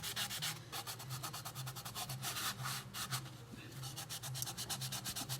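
Rapid back-and-forth rubbing as the bottom of a glitter tumbler is sanded by hand, a close, continuous scratchy stroking with a steady rhythm throughout.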